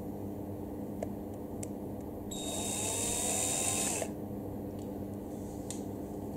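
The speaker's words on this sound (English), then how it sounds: "So there is a drill machine" A small drill bores a hole in an action camera housing, giving a steady high whine for about two seconds against a low background hum.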